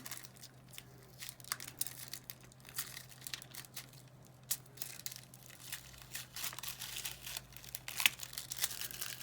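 Paper is peeled slowly off an adhesive craft sheet, giving soft intermittent crinkling, tearing and crackling sounds up close, quiet and irregular over a low background hum with no talking.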